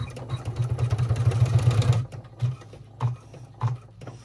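Embroidery machine stitching a second pleat on vinyl in the hoop: a rapid steady mechanical chatter for about two seconds, then three short separate bursts of stitching.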